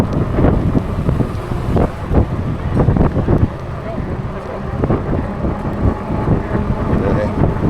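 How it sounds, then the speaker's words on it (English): Wind gusting hard across a microphone on the Lake Huron shore at a campground near Mackinac, a loud, continuous low rumble with rough buffeting bursts throughout. "Windy."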